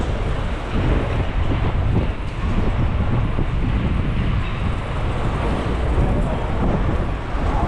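Strong wind on a Macau street buffets the microphone in a steady, heavy rumble, with broadband roar filling the scene throughout.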